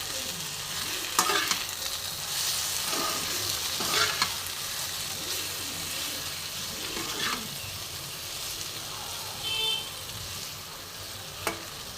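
Vegetables sizzle in a pan as chili powder is stirred in for a khoira fish dish, a steady close frying hiss broken by periodic spatula scrapes and stirs.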